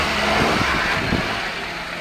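A mini truck engine running nearby, a loud, steady mid-pitched rumble with a slight surge near the start before it settles and fades a little.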